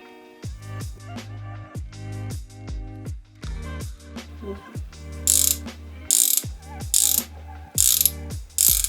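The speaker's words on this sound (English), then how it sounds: "Press with compact wrench." A compact ratchet wrench drives an iCrimp IWS-18 PEX crimping tool onto 1"-2" copper rings, giving close, loud ratcheting clicks in repeated bursts, with a sharper metallic clatter toward the end.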